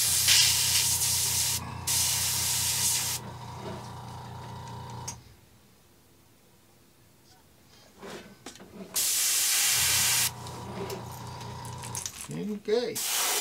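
Color shift blue paint is sprayed onto a fishing lure in bursts of close, hissing spray, with a quiet gap midway and faint mechanical clicks and handling near the end.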